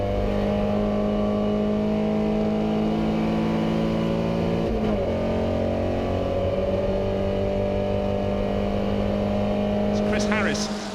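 Vintage racing cars at the Goodwood Revival's Fordwater Trophy race hold a steady, continuous engine drone throughout, with a brief shift in pitch midway and a commentator talking over the sound.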